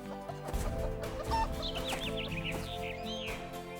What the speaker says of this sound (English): went out to feed the hen